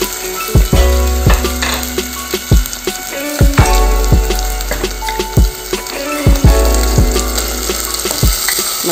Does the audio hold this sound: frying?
yes